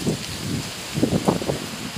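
Strong storm wind with rain during a signal #4 typhoon in a subdivision in Silang, Cavite, a steady broad rush of gusts and rainfall close to the microphone, with low buffeting pulses swelling midway.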